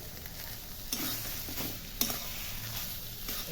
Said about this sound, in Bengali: এবার আমি নাড়ি চাড়িয়ে নামিয়ে নেব